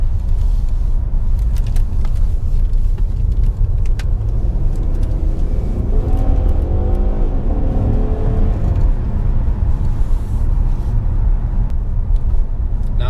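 A 2016 Ford Taurus SHO with a twin-turbo 3.5L EcoBoost V6 heard from inside while driving, a loud steady low rumble and whir with a rising engine tone midway.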